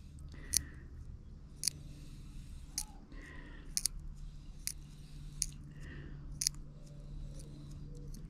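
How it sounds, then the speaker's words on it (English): Scissors snip repeatedly, trimming silicone bait pump washers, sharp crisp cuts at irregular intervals over a low background hum, close up. "Pair of nail clippers or a pair of scissors, just cut off, and then you can just trim them up."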